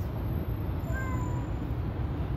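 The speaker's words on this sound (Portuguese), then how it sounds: "Olha o gatinho passando, olha o gatinho" A small white cat passing by gives a faint, brief meow outdoors, partly masked by a constant loud background rumble and hiss.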